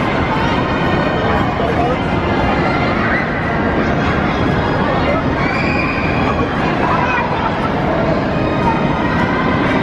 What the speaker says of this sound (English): An awesome ride there on the classic ghost train here at Blackpool Pleasure Beach.